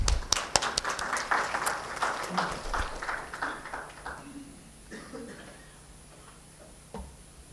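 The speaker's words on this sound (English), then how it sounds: "round of applause to the Professor Geshang Asamdullah." Audience applause for a professor at an academic conference on quantum physics and Buddhist philosophy: a crowd clapping that starts fairly loud and gradually thins out to a few scattered claps, followed by quiet room sound and faint voices.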